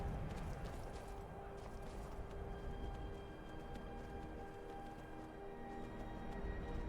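Rapid hoofbeats clatter over a constant low rumble, a horse in The Elder Scrolls V: Skyrim Special Edition moving at pace with steady rhythmic clip-clop.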